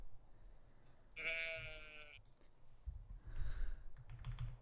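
A sheep in the Stardew Valley farming game gives one bright, wavering bleat, followed after a pause by a softer second call, with faint game ambience and clicks around it.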